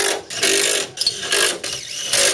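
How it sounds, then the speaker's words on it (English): Bursts from a small air ratchet gun running bolts down during a radiator replacement on a Buick LeSabre, several short whirring pulses close by with brief pauses between them, no talking. "So I'm going to run some bolts down here with my little ratchet gun."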